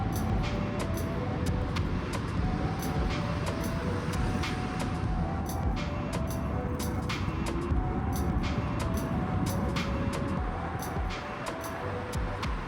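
A dual-motor Hiley Tiger Supra electric scooter runs at full throttle, giving a loud, steady rush of wind and road roar with a sustained motor whine. The sound is continuous for the whole stretch, with no talking.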